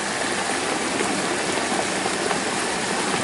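Water rushing steadily through a pond siphon, a dense continuous hiss and gush like heavy rain, moderately loud and unbroken, with no voices.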